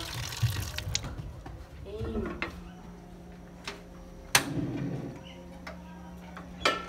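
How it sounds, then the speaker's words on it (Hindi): Kitchen tap opened by one hand, water running steadily into a sink, with scattered clinks and knocks of utensils and a voice talking over it. "ये जी अभी खोलते हैं टूटी एक हाथ से।"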